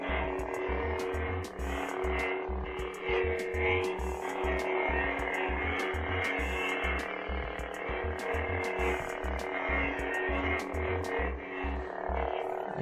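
DamienSaber lightsaber swung repeatedly, a steady electronic hum with a rapid pulsing low throb and bright crackling flares at each swing, loud and continuous throughout with no talk.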